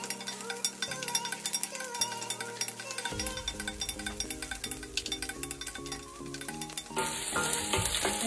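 Onion sautéing in oil in a pan for crab in coconut milk, a steady close sizzle running underneath background music, with light clinks of a utensil and no talking.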